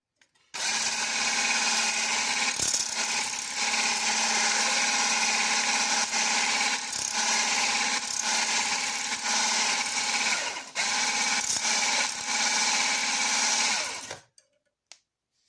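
An electric hand mixer whirs steadily for several seconds while beating eggs in a deep bowl, with a few brief dips, then cuts off near the end.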